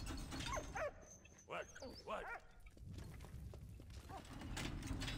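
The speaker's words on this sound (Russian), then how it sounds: "Теперь собаку надо спасти" A dog whimpers and yips in the World War I video game Valiant Hearts, with several short, high, pleading cries spread over a few seconds alongside game sounds and a background voice.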